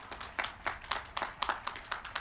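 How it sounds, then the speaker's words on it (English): A small graduation audience claps at a commencement ceremony, a sparse, loosely rhythmic patter of individual hand claps lasting a couple of seconds without voices. "let's give that a round of applause"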